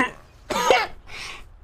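A single sharp cough from a man, a short throaty burst followed by a softer second hack, close and loud with no talk over it.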